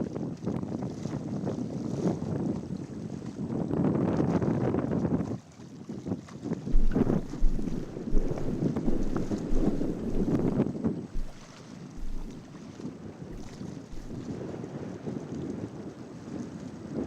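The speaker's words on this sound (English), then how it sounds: "You can just hear that wind just whipping." Strong wind whips over an open fishing boat during a bass fishing tournament, a low, blustery roar that surges in long gusts, with brief lulls and occasional thumps against the microphone.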